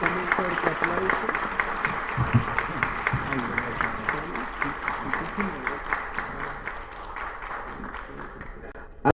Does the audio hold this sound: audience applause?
yes